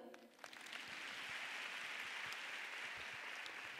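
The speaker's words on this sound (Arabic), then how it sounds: "وايد صفقوا" An audience at a talk on balanced living breaks into applause, the clapping rising quickly after a brief lull and then holding as a steady, dense wash for several seconds, with no talking.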